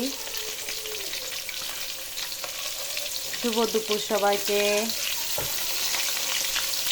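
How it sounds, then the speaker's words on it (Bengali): Hilsa fish fry in a pan with a steady background sizzle, while a person speaks briefly over it partway through. "ইলিশ মাছ ভাজছি"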